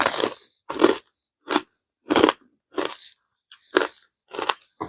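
Crispy pork rind cracklings crunch loudly and close up, bitten and chewed in about eight sharp, separate bursts with short silences between them.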